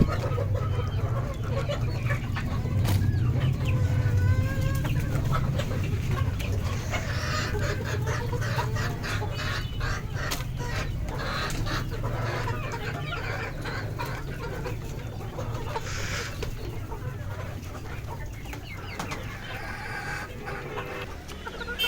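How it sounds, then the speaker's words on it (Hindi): Several backyard desi hens clucking together inside their enclosure, a steady close chorus of soft overlapping clucks with occasional louder calls, no voices. "ये कुछ थोड़ी सी मुर्गियाँ अंदर भी हैं, इनको भी अब देखते हैं"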